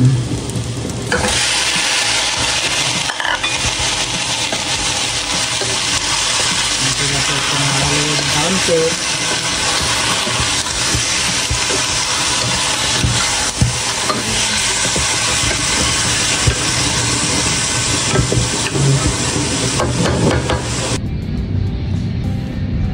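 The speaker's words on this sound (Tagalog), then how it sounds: "pag okay na po itong ating bawang, sibuyas, luya, ay lalagyan na po natin itong chicken." Chicken pieces going into a pan of sautéing garlic, onion and ginger for chicken tinola, giving a loud, steady sizzle and frying hiss with stirring scrapes throughout, cutting off near the end.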